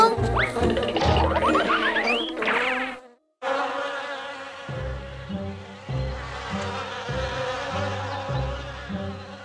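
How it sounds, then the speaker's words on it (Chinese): Angry cartoon bees buzz loudly and close in a cartoon, with swooping, wavering drones and quick springy accents. After a brief silent gap the buzzing resumes as a pulsing, repeated pattern, with no speech. "愤怒的蜜蜂"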